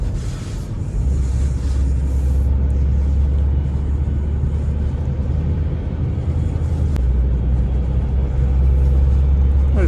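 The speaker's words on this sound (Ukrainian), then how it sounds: "Турбінка гарно набирає, передачки гарно перемикаються." A 2010 Ford S-Max with a turbocharged engine, driven at speed: a steady, loud low engine and road rumble drones throughout, with no talk.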